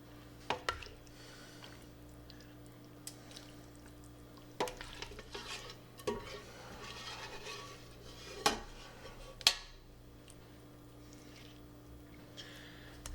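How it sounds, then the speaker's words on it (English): Meat and vegetable mix for an Irish shepherd's pie spooned from a pan into a casserole dish: scraping, soft wet squishes and occasional metal clinks of a spoon against the cookware, close and steady, with no talking. "next I'm going to transfer our meat and vegetable mix to the casserole"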